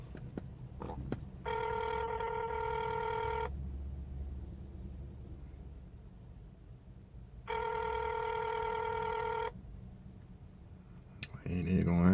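A telephone rings unanswered in two long, clear bursts separated by a pause, with low background rumble and a brief voice at the end.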